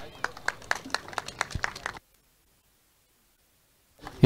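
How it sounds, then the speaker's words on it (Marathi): A short run of hand clapping for an honoree at the Dapoli Premier League season-4 final-day prize ceremony lasts about two seconds, then cuts to silence. "जोरदार टाळ्या"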